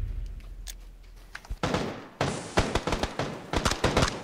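Gunfire in the PUBG video game: a burst of rapid, loud shots that start midway and then sharp single and clustered reports keep cracking in an irregular rhythm close by.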